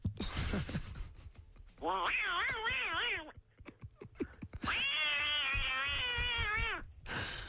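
On a radio show, a man imitates a cat with his voice, giving two drawn-out, wavering meows that stand out clearly between bursts of nearby talk.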